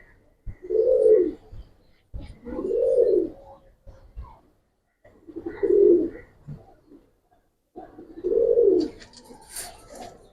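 Army, lalpatti, silver and khaki breed pigeons coo nearby: four rounded, throaty coos at a steady, unhurried pace with short gaps between them and no voices.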